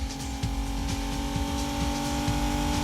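A Nissan Z six-speed track model, with 287 horsepower and 274 pound-feet of torque, drones steadily and loudly under power, its engine note holding even with faint pulsing throughout.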